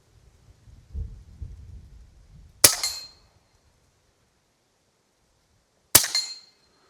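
Two sharp, clean cracks from a Huben GK1 air rifle, several seconds apart, each a loud close snap with a short decay, after some low rustling handling noise.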